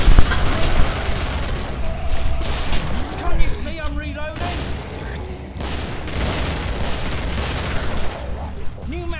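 Rapid gunfire from a recoil-free gun in the video game Killing Floor 2 rattles in dense bursts with booming impacts, mixed with game effects and a voice talking over it.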